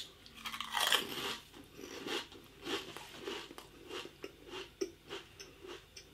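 Spicy Pringles crisps, including a hot cheese flavour, crunched and chewed close up. A loud first bite is followed by a steady run of crisp crunches and chewing with no talking.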